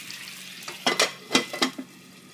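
Liquid hits hot oil in a pan braising hen of the woods mushroom, a handful of sharp close spattering pops and crackles over a faint sizzle, spaced irregularly over two seconds.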